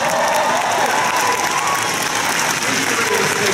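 An audience at a Disney awards ceremony claps loudly and steadily throughout, dense applause that never lets up, with faint voices mixed in.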